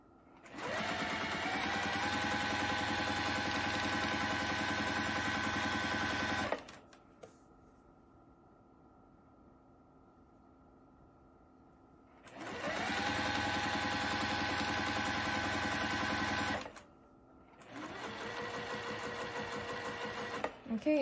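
A sewing machine runs in two long bursts, with a shorter third one at the end, as it stitches the edges of a baby quilt with back stitches. Quiet pauses separate the steady mechanical whir of each burst.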